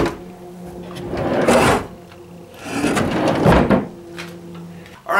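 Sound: homemade wooden drawer sliding open and closed

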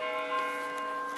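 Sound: church bells ringing on a snowy morning

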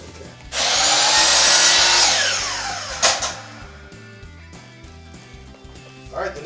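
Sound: power tool cutting pieces for framing

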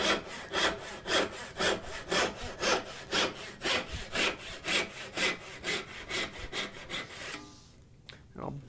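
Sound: turning saw cutting straight down through wood

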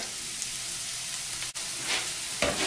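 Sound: garlic, onion and bell pepper sautéing in a pan

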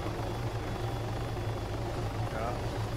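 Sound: helicopter flying, video game ARMA 3

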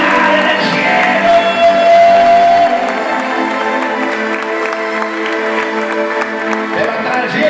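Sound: church congregation applauding and cheering

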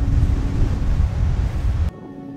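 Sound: wind

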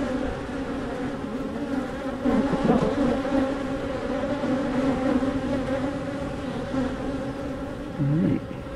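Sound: honey bees buzzing around the hive

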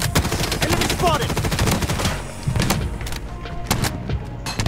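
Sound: defensive turret firing in video game BloodStrike

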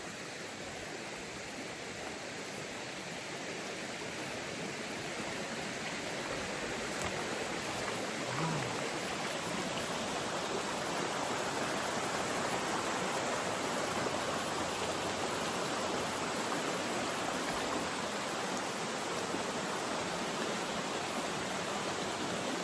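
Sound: waterfall flowing

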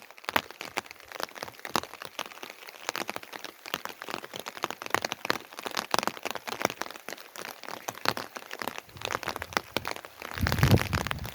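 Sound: heavy rain falling in a village

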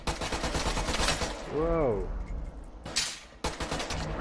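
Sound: gunfire in video game Caliber

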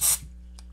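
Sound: spraying flux cleaner onto circuit boards

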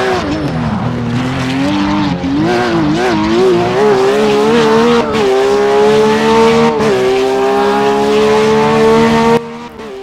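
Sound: racing video game car braking and oversteering into a corner

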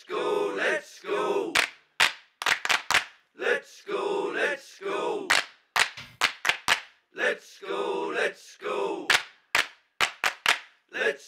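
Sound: crowd chanting "let's go" in OOTP baseball video game

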